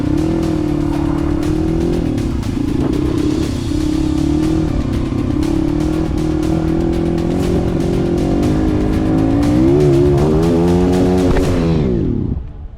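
A motorcycle engine revs hard and steadily for about twelve seconds as the bike accelerates up a ramp, its loud harmonic drone rising in pitch near the end before cutting off abruptly.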